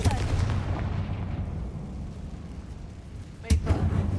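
An explosive Confringo spell goes off in Hogwarts Legacy inside an abandoned mine, a deep booming blast at the start that rumbles and decays, then a second sharp burst near the end.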